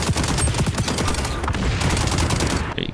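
AK rifle fire in a first-person shooter video game, fast continuous automatic bursts of loud, close crackling shots that run almost unbroken before cutting off at the end.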